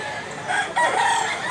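Banugon rooster, an eleven-month-old green-legged bird, crowing close by in one loud, strained call that breaks briefly and resumes.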